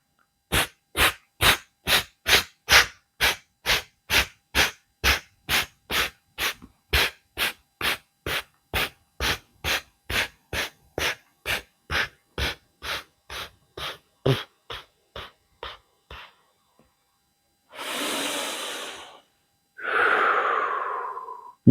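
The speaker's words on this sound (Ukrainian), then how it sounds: "Я роблю глибокий вдих і починаю робити порційні стравлення." Pranayama breathing: a rapid series of about thirty short, sharp exhalations in an even rhythm that slowly fades, followed by two long, deep breaths, close and without talking.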